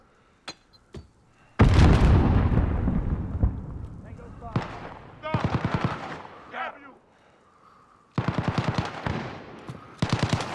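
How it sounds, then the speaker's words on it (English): A grenade blast followed by bursts of automatic gunfire in a video game bot match, a loud broadband boom then rapid rattling volleys, with a voice calling out over it. "Grenade out!"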